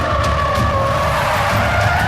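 Tires of a moving car skid and squeal loudly in a film chase scene, a continuous sustained screech with engine roar underneath, close and steady throughout.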